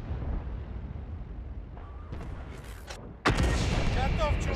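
Video game gunfire: a quiet stretch with a few faint shots, then a sudden loud burst of rapid, close firing that continues to the end.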